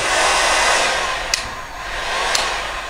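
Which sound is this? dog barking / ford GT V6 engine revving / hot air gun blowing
hot air gun blowing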